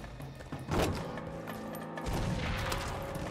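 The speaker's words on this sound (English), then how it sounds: "Gas explosion." In Far Cry 5, a gas explosion bursts out as a loud booming crash, followed by a rumbling tail and a second heavy surge of debris noise, with no talk over it.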